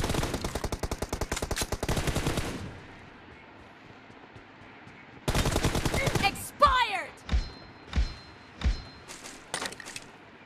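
Rapid automatic gunfire from a mobile shooter game played on a Honor Play or Realme 6 phone: a long loud burst, a pause, another burst, then several spaced single shots, close and clear with no talk.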